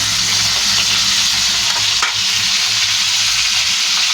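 Fish frying in a pan for a light curry, with a steady, loud, close sizzle and crackle of hot oil running unbroken throughout, no voices.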